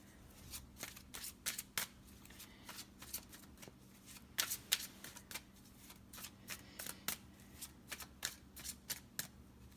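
Tarot cards shuffled by hand in a quiet room, a steady run of crisp riffling flutters and soft slaps repeating through the whole stretch, close and clear with no talking.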